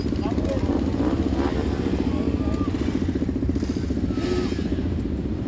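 Motorcycles setting off on a family group rally ride, a steady rumble of engines close by, with people talking over it throughout.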